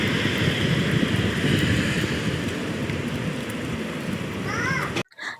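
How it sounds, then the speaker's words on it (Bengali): Heavy rain and strong wind in a fierce storm make a dense, loud, roaring wash that holds steady and then cuts off abruptly near the end, followed by a brief faint rustle. "আজকে ওয়েদারটা দেখো, সকাল থেকে প্রচণ্ড বৃষ্টি, প্রচণ্ড হাওয়া আর বিদ্যুৎ চমকাচ্ছে।"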